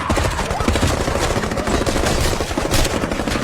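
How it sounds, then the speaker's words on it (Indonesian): Gunfire from a brutal film set in a hotel in a forest: rapid, continuous bursts of shots like a machine-gun barrage, loud and near, with no talk. "karena mereka semua terus dihujani dengan tembakan"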